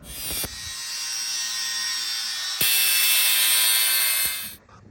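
A power tool cutting a piece of scrap aluminum inside a vintage bus RV conversion: two loud, steady high-pitched whining bursts close by, separated by a brief dip, then spinning down at the end.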